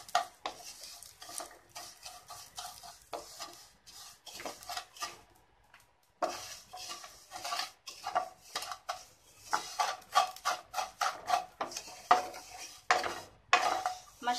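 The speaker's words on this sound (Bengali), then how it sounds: "মিডিয়াম আছে একটু লাল লাল করে ভেজে নেব।" Vermicelli (semai) frying in ghee in a pan while being stirred, with repeated scraping and clinking of a utensil against the pan in an irregular rhythm and a faint sizzle underneath, close and moderately loud, no talking.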